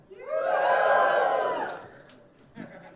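A young comedy club crowd bursts into one loud, sustained shout lasting over a second, then fades, with a brief voice or murmur near the end.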